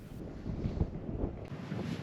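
Wind rushes and buffets against the microphone in a constant low roar at Guadalupe Mountains National Park, Texas.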